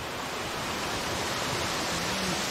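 Chakratirtha waterfall in Keonjhar, a continuous rushing roar of falling water heard close and steady, with no voices over it.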